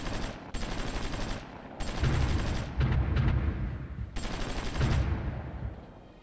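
Repeated artillery barrages in the strategy game Supreme Ruler Ultimate: several loud bursts of booming fire, each lasting about a second, separated by short pauses, heavy and rumbling with no talk.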